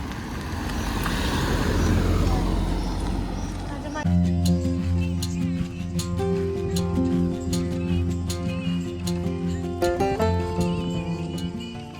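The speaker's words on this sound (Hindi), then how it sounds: "गाइस अभी एक गाड़ी और आ गई" A car on a mountain road approaches and passes, its engine swelling over the first few seconds and then dropping away. People talk over it, and the voices carry on after the car has gone.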